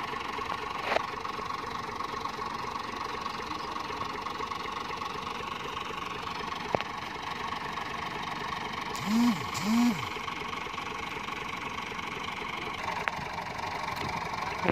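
A Massey Ferguson 240 tractor, hitched to a loaded trolley and stuck in deep sand, idles with a steady low mechanical drone throughout, with a couple of brief whining tones near the end.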